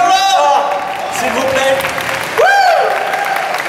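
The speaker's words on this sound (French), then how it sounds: "Allez, on les applaudit." Live audience applause and cheering at a French-speaking stand-up or variety show, loud and sustained throughout, with a host's voice talking over it.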